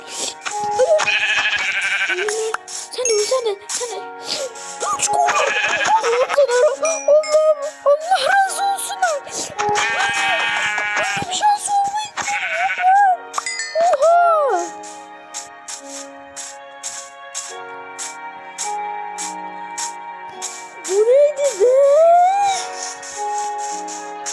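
Repeated wavering bleats from sheep amid bright, tonal game music and effects, loud and intermittent throughout.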